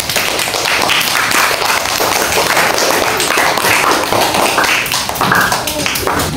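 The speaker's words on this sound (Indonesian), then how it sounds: "Tepuk tangan untuk Atta." A classroom of students gives a steady, dense round of applause for a classmate, loud and sustained throughout with no break.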